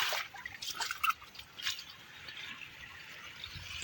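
Rainwater runs steadily after hours of heavy rain with wind, a soft continuous wash of flowing water with faint dripping, fairly quiet and with no voices.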